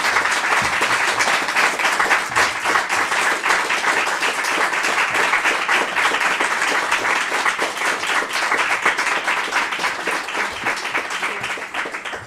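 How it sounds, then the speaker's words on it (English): Sustained audience applause fills a hall after a government immigration program announcement in Sudbury, dense steady clapping from a large crowd that barely fades over twelve seconds, with no talking. "You guys are still clapping for yourselves"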